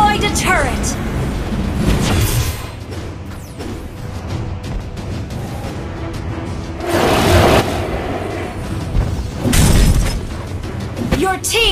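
A turret being destroyed in a video game: repeated crashing, shattering bursts and booms swell loudly over a dense battle din, while a voice speaks over the action.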